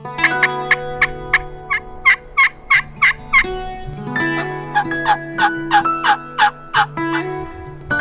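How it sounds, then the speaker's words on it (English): Wild Merriam's turkeys in the Black Hills gobble repeatedly in two rapid rattling bursts, loud and fairly near, with other turkey calls carrying underneath; no one talks. "Hopefully they start gobbling here in the next couple of hours and wait them out and see what happens."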